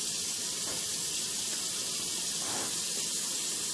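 A pot of cassava leaves boiling steadily, giving a constant broad hiss and bubbling roar that fills the whole stretch without pause or voices.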